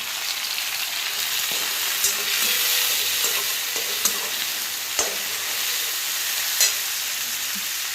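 Green chillies and tomatoes fry in a pan over a medium flame, giving a loud continuous sizzle with a few sharp spoon clicks as they are stirred slowly.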